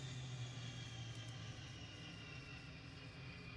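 Steady jet engine roar from an OA-37B aircraft starting up, a constant broadband rumble with a low hum, continuous and fairly distant, with no talking.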